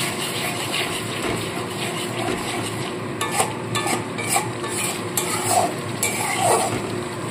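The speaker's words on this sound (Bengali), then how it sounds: "ঢাকা চাপা দিয়ে দিয়ে মশলাটাকে কষিয়ে নিতে হবে।" Masala sizzles in a pan with a little added water as a spoon stirs and scrapes it, giving a steady close frying hiss broken by periodic scraping strokes, with no one talking.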